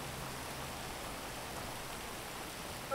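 Rain falls as a steady, dense hiss of drops on surfaces, even and continuous throughout with no voices.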